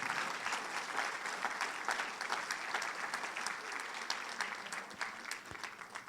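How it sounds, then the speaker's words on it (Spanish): A church congregation applauds during a Spanish-language sermon, a steady, moderately distant wash of clapping that holds evenly throughout with no talking over it. "Démosle ese fuerte aplauso al Señor."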